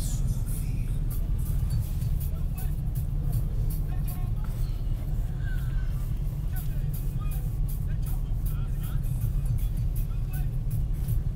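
Busy motorcycle traffic in Togo, a dense steady drone of many small engines surrounding the listener, with someone talking over it.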